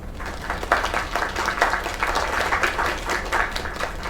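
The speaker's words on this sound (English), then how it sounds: "Another round of applause." A crowd applauds steadily, dense clapping with bursts of louder claps throughout, moderately close and continuous, with faint voices mixed in.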